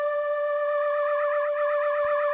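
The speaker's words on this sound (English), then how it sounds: "That sound is the flanger." Synth tone run through a flanger with feedback in Kontakt, a sustained pitched note whose harmonics sweep up and down in a metallic, jet-like whoosh, steady and loud with no voice over it.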